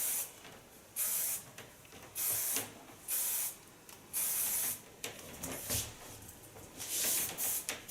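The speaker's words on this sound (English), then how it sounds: "Now I need a soft hairspray again." Soft hairspray is sprayed onto styled hair in a series of short, close hissing bursts, roughly eight puffs with brief quiet gaps between them and no talking.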